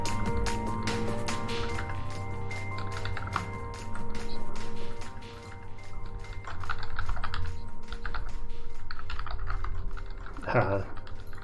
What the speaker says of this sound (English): that's because I'm typing there.